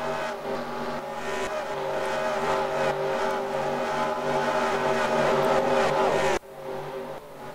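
Race cars finishing the Vodafone 52 at Brooklands roar loud and close in a sustained, rising engine howl with hints of tire squeal, then cut off sharply to a quieter background near the end.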